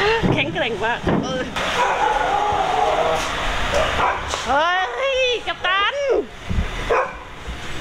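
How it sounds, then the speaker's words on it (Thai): Night at a Thai home: a dog barks and yips repeatedly at close range, sharp rising barks in bursts with whimpering tones, while people talk loudly over and between the barking. "ได้ยินเสียงหมาเห่าก็วิ่งเห่าทำไม"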